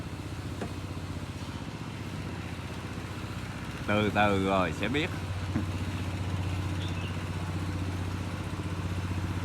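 A Nissan 90 hp boat engine with a Z-drive sterndrive runs steadily at a low, even drone for the whole stretch, while someone talks briefly over it partway through.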